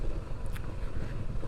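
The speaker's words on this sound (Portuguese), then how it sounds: "E tá um vento forte pra caramba" Strong outdoor wind buffeting a microphone on a solo motorcycle ride, a steady low rumbling roar that fills the whole stretch with no talking.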